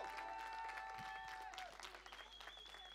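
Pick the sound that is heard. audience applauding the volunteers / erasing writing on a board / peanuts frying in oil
audience applauding the volunteers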